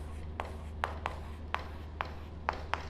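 Marker or chalk writing out place-value numbers during a maths lesson, with short separate strokes at an irregular pace over a steady low hum, with no talking.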